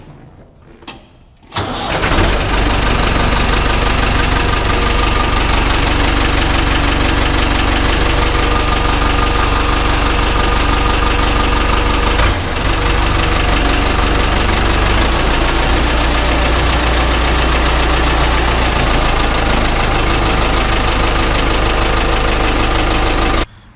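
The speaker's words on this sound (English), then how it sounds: "let's crank the old Ford up here" An old Ford flatbed truck engine cranks briefly, catches, then settles into a loud, continuous idle with a rough, knocking edge that runs on uninterrupted.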